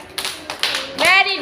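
Young children in a kindergarten classroom give a few quick claps, sharp and close, and a short burst of a voice follows near the end.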